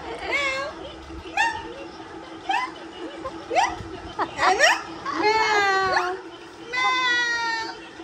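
A hungry pet cat meows again and again in a home, a string of short, fairly close calls with brief pauses, with some human voices around them.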